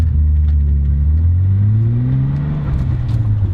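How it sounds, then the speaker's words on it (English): A BMW 3.0 CS inline-six revs up while driving on back roads, a loud, smooth mid-pitched engine note climbing steadily in pitch over a few seconds, close and continuous. "The engine has a beautiful note to it from that inline 6."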